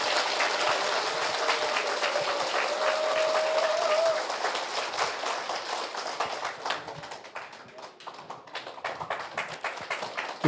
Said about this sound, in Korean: 자, 여러분 박수로 환영해 주십시오.